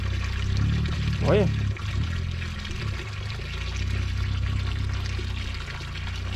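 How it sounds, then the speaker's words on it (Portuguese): Water gushing from an electric pump on a cattle farm, a steady loud pour with a brief voice calling out over it. "Joga água igual uma bomba elétrica."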